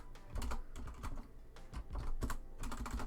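Typing on a computer keyboard while writing code in a programming-language editor, heard as close, irregular bursts of clicky keystrokes with short pauses between clusters, no voices.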